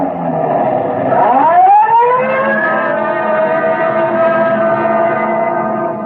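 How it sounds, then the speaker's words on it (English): A loud, close police car siren winds up in pitch and then holds a steady, continuous wail with no one speaking. "Code 3, red light and siren."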